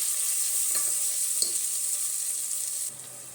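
Onion, ginger-garlic paste and tomato sautéing in a pan for chicken biryani, a soft steady frying hiss with a couple of light stirring clinks, ending in a quieter lull.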